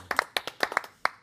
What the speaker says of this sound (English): myself and the other panellists are going to give a round of applause to the audience